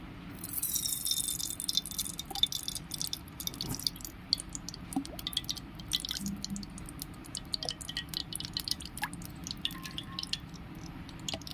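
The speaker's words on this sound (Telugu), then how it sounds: "దీంట్లోకి ఆయిల్ తీసుకుంటున్నాను" Cooking oil poured into a hot kadai makes a brief, bright pouring splash at the start. Faint drips and light ticking follow over a quiet kitchen background, with no talking.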